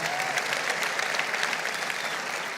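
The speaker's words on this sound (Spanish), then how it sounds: "Un aplauso al Señor por esta escena tan linda" A church congregation claps in steady, enthusiastic applause throughout, with no voices standing out.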